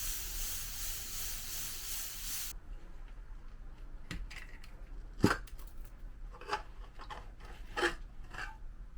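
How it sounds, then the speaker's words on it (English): Steam hisses out of a cooking pot of lemon herb chicken as a steady, loud rush of noise for a couple of seconds, then stops, followed by scattered clicks and light handling sounds. "Let's release the steam and see what we got."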